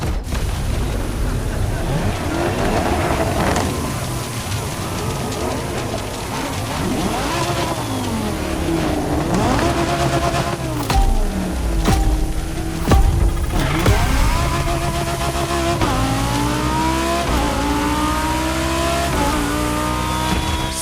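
A Lamborghini Huracan Performante with Liberty Walk styling, driven in the racing game The Crew Motorfest, revs and accelerates loudly and steadily. The engine pitch climbs and drops repeatedly through gear changes as a continuous roar.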